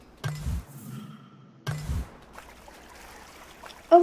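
Water flowing through a sewer in the video game Endling, a soft continuous trickle running under two louder low thuds and other game sounds.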